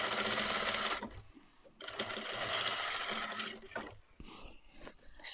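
A sewing machine stitches boning onto a corset, running close and steady in bursts, with short pauses between them.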